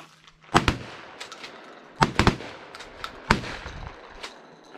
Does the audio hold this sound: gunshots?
yes